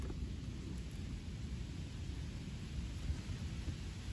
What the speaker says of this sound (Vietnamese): Đó, mưa luôn rồi.